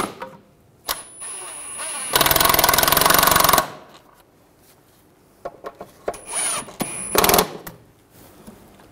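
A power tool snugs down bolts on a rear ABS wheel speed sensor of a 2006-2009 Mercedes-Benz E350: one loud, harsh burst of about a second and a half, then a shorter burst, with scattered clanks and handling noises between.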